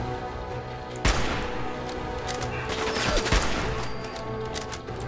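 Gunfire in Fallout 4 during a fight with a legendary enemy, a few sharp close shots standing out over a busy, rumbling background of combat noise.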